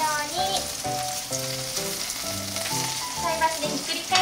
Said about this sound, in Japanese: 菜箸でひっくり返すように表面に焼き色をつけてあげてください。